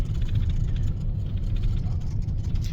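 The engine of the vehicle Big Red rumbles low and steady from inside the cab during a driving lesson, a continuous close drone with faint rattles and no break.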